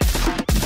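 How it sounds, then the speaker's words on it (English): Gunshot samples used as punchy stabs in a hip-hop beat, two heavy broadband hits separated by a short gap, loud and dense in the mix. "Gunshot as stabs."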